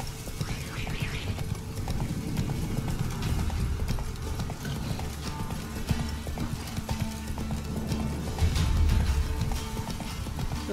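Horse hooves galloping in The Witcher 3 as Geralt rides, a steady rhythmic clip-clop close by with a brief whinny, under faint background sound.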